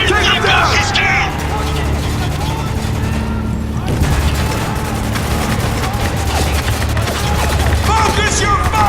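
Sustained gunfire in the Spec Ops: The Line video game, dense loud bursts of shots running through the whole stretch with shouted squad callouts and talk mixed over the battle.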